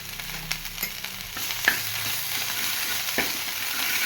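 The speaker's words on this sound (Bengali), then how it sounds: "এবার আমি দিয়ে দেবো চিনি বাদাম বাটাটা।" Spices fry in a pan as sugar and peanut paste are stirred in, a steady close sizzle broken by scraping stirs and a few sharp clacks of the utensil.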